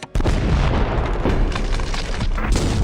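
A loud, sustained explosion sound effect with a sudden boom onset followed by a dense, rumbling roar that carries on without a break.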